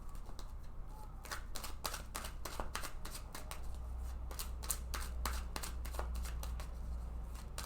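Tarot cards shuffled and drawn by hand, heard as quick repeated riffling and flicking bursts at close range, fairly steady and soft over a low background hum.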